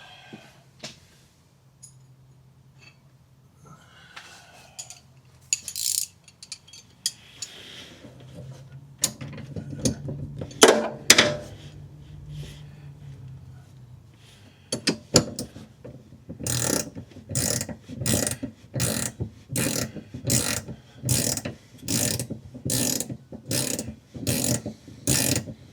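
A ratchet wrench tightens a nut on a 1972 VW Super Beetle; after scattered clinks and tool handling, a steady run of sharp, close ratcheting clicks repeats in a regular rhythm to the end.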